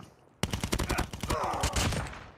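Sniper gunfire in the Call of Duty Mobile video game: after a brief quiet start, a rapid, close run of sharp gunshots crackles on for about two seconds, with a faint tonal whine underneath and no speech.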